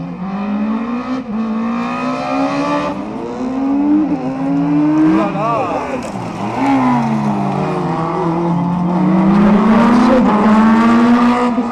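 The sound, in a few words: small-engined race car at the Carcassonne slalom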